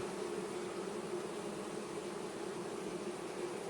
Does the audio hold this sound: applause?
no